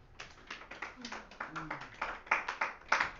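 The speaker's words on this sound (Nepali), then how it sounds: "हृदयदेखि ताली बजाएर।" Church congregation clapping together in a steady rhythmic beat, moderately loud, with a brief vocal sound partway through.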